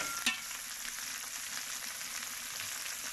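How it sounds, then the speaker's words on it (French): Prawns fry in a hot pan with a dense, steady sizzle that holds at an even level throughout, with one brief sharper crackle near the start and no talking. "Donc, Edith, tu es en train de faire cuire tes gambas."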